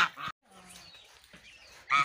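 A domestic goose honks near its goslings, with a loud burst at the start and another at the end, separated by fainter softer calls and a brief silence.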